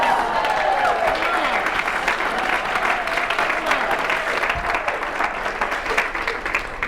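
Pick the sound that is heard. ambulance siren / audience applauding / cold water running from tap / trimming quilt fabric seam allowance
audience applauding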